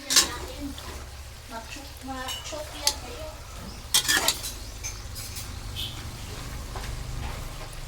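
Meat frying in a pan with plenty of black pepper, a steady sizzle with scattered stirring scrapes and utensil clinks, a few louder clatters near the middle, and faint voices in the background.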